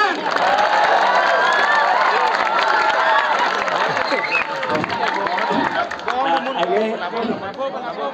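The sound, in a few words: crowd applauding and cheering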